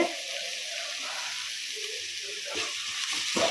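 Onions and split dried red chillies fry in a pan with a steady, even sizzle and hiss, a little stirring near the end.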